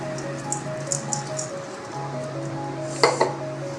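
Coarsely ground whole coriander, carom seeds and cumin are mixed into fish masala for a fish fry, giving soft, sparse clinks and light scrapes with a sharper metallic clatter near the end, quiet and close.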